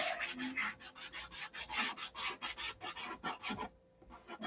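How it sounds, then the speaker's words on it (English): Coarse 80-grit sandpaper rubbing back and forth across a surface in steady, rhythmic strokes, close up, with a brief pause near the end before the scraping resumes. "Got too aggressive with the sandpaper."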